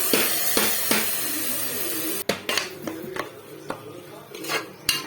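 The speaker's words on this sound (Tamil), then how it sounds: "தக்காளி இஞ்சி போட்டு பேஸ்ட் போட்டு நல்லா வதக்கணும்" A spoon scrapes and clinks against a pan as tomato and ginger paste are sautéed for duck curry, with irregular metallic knocks and scrapes over a low sizzle, close and fairly loud, without talk.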